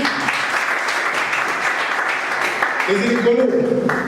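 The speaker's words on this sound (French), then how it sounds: "on va applaudir aussi pour lui, s'il vous plaît" An audience claps steadily throughout, a dense wash of applause, with a voice briefly speaking over it toward the end.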